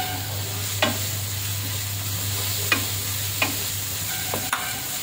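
Spices and onion frying in oil in a pan for chital fish, with a steady low sizzle and a few sharp scrapes of a spoon stirring at irregular intervals, and a constant low hum underneath.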